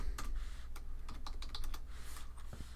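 Quiet computer keyboard typing while entering a command, a quick irregular series of light key clicks over a low background hum.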